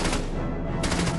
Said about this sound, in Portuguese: Então tiros rompem o silêncio.